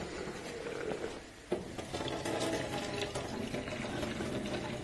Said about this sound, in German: Die gießen wir jetzt ab. Das Wasser.